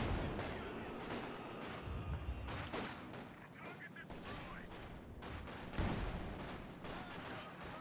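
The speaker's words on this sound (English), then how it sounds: "yet again, an AT gun firing" Anti-tank gun fire in a World War II strategy game battle, heavy booming shots scattered among ongoing small-arms crackle and distant explosions, dense and rumbling throughout, with a voice commenting over the combat.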